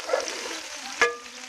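Okra browning in a pan for a home-style bhindi dish, a soft steady sizzle of frying throughout with a brief sharper clink or stir about two-thirds in.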